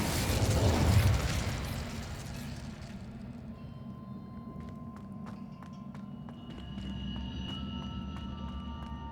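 Incendio fire spell cast in Hogwarts Legacy, a loud fiery burst swelling in the first two seconds and fading into a lingering crackle, with faint chimes and ticks over a low rumble.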